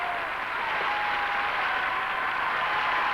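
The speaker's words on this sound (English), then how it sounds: "The Bulgarians cheering" A steady wash of applause and cheering from an arena crowd, with Bulgarian fans greeting a rhythmic gymnast at the 1984 European Championships; dense and continuous, heard at a distance, with no breaks.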